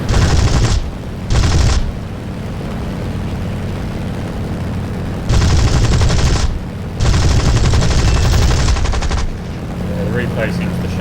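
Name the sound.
Spitfire Mk II aircraft cannon fire in War Thunder video game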